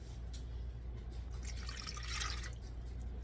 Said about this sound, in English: Okay, added a cup of water.